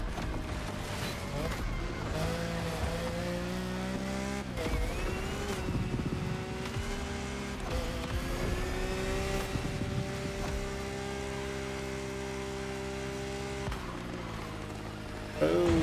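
A TVR Sagaris engine howls loudly and steadily in a race in The Crew Motorfest, its pitch climbing and dipping with gear changes while a player talks over it.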